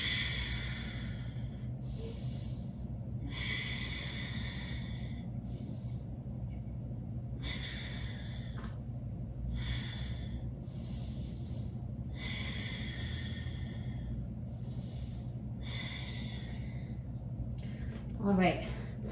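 Slow, steady breaths during a core and hips yoga flow, each soft airy inhale and exhale rising and falling about every two to three seconds over a low constant room hum.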